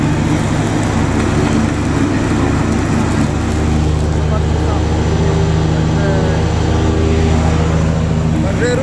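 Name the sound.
Simplicity Broadmoor SLT300 lawn tractor engine while mowing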